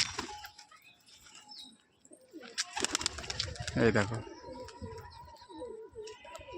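Pigeons flying acrobatic rooftop displays give soft coos and a burst of wing flapping in the middle, moderately close, while a person talks briefly over them.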